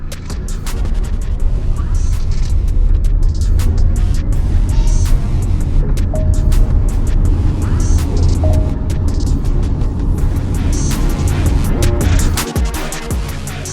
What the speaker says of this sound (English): In fact, the car really bolts off the line when you give it the throttle.